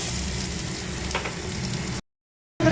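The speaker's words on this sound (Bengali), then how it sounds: "পেঁয়াজটা একটু ভেজে নেবো।" Onion fries with black cumin seeds in a pan, giving a continuous close sizzle for about two seconds before a sudden cut to silence and a brief return of the sizzle.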